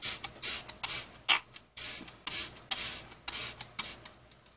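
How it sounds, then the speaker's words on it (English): A Smashbox primer water mist is sprayed onto a face in a run of quick, close pump bursts, each a short airy hiss with brief pauses between them. "Go ahead and spray my face with my Smashbox primer water."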